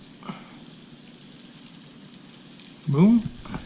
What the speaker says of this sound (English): Now we will put our fish on. Bring it over. Oh yeah, she's sizzling.